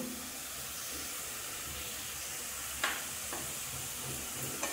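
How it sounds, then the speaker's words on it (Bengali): Boiled potatoes and paneer are stirred into frying masala in a pan, a soft steady sizzle and hiss with a couple of brief scraping clicks, close but quiet and with no speech. "এর মধ্যে আমি দিয়ে দিচ্ছি এই যে সিদ্ধ করে রেখেছি আলুগুলো"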